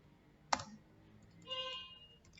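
A single sharp computer mouse click lands close and distinct, followed by a short faint electronic tone, with a quiet room around it and no talking.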